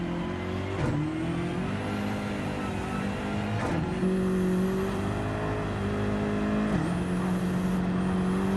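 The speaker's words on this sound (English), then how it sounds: "Hear the great big turbos of this BMW sucking in some Australian wildlife" Turbocharged BMW GT3 race car engine in a racing video game, set at Mount Panorama Bathurst, a steady loud drone with upshift dips at regular intervals, no talk over it.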